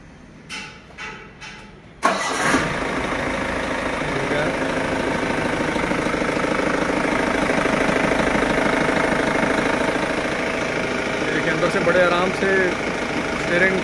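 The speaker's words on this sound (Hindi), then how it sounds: "अभी गाड़ी स्टार्ट करके हम पावर स्टीयरिंग का आपको चेकअप कराएंगे।" Mahindra Major jeep engine cranking briefly and catching, then settling into a loud, steady diesel-like idle with a rough knocking rhythm that runs on close by.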